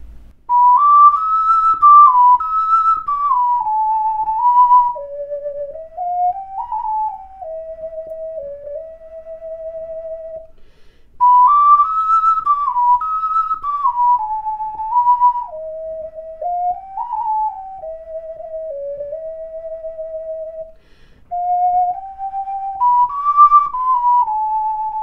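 An ocarina plays the Irish tune The Foggy Dew, with a pure, breathy whistle-like melody carried alone, close and clear. The phrases are smooth and sustained, and the opening line repeats partway through.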